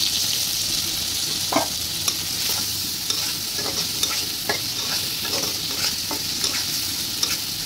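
Jackfruit curry fries in oil with garlic and green chili, a steady close sizzle punctuated by regular light clicks and scrapes of a spoon stirring the pan, with no talking.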